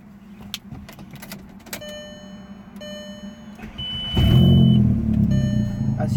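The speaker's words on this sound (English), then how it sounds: "I'm gonna start the car." A Volkswagen 1.8T car engine with an EPC light fault cranks and catches, rising to a steady running rumble, after a few clicks and brief electronic chimes inside the vehicle.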